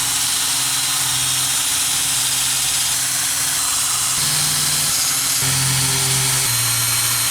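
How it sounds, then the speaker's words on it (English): A power drill fitted with a sanding attachment sands a car's brake calipers, a loud continuous whir and abrasive hiss with slight pitch shifts as pressure changes, heard close and without talk. "Drill, first attachment, and we're just gonna go around and sand."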